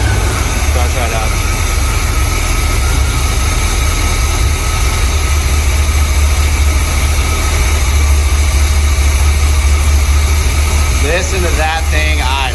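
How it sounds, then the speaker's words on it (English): 1975 Chevy C3 Corvette engine idling after sitting for 15 years, a loud, steady low rumble running continuously from close by, with faint voices near the end. "Listen to that thing idle."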